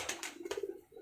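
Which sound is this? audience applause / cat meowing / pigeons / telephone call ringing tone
pigeons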